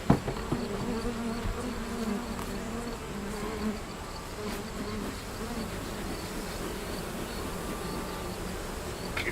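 Honeybees in a hive being stirred up and smoked, a dense steady buzzing hum that stays close and constant throughout with no voices over it.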